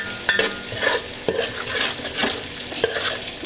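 Black cumin and cumin seeds crackle as they temper in hot oil for a Bengali mustard-paste katla fish curry. A dense, steady sizzle with scattered louder pops runs close-up throughout, with no talking.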